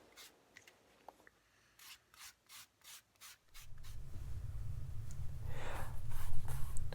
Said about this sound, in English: finish these last sections with the sanding and the burnishing stick